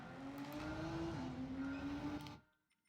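A car engine in the racing game Gran Turismo 7 drones at a steady, sustained pitch, then cuts off abruptly into near silence.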